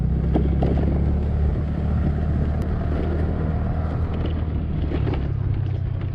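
A TVS NTorq scooter climbs a narrow, broken village road, its engine droning steadily and loudly alongside rumbling wind buffeting, with no talk.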